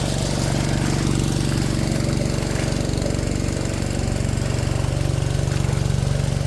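A gold dredge's pump engine runs at an Indiana creek, a loud, close, rapid chugging drone with steady knocking pulses that continues unbroken throughout.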